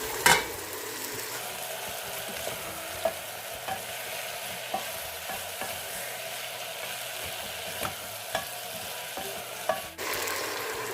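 Thai curry paste stir-frying in a pot, a steady sizzle broken by regular scraping strokes of a spoon against the pot, close and continuous, with no voices.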